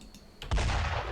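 A single sniper rifle shot rings out in the World War II video game Brothers in Arms: Road to Hill 30, a sharp loud crack followed by a sustained rumbling tail.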